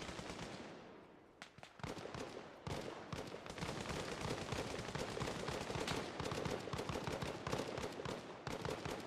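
Sustained gunfire in a military simulation game rattles continuously as overlapping rifle and machine-gun bursts, mid-distance and fairly steady, with a few sharper nearby cracks.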